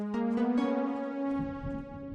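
A short melody of a song plays on Fortnite music blocks in the video game, with clear, evenly spaced synthetic notes that sound moderately soft.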